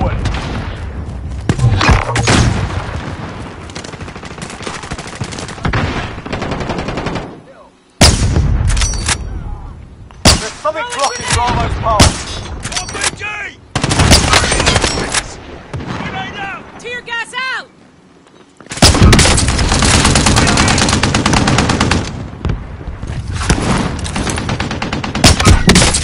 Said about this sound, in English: Taking fire! Round incoming! Under fire!